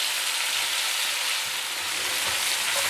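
Shallots, celery and mushrooms fry in a pan for a French lamb casserole, a loud, even, continuous sizzle close by with a few faint knocks, and no voices.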